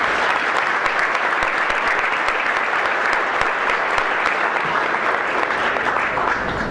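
A roomful of guests at a golf association presidents' dinner applauds steadily and fairly loudly, a dense, even clatter of many hands that holds for several seconds with little talk.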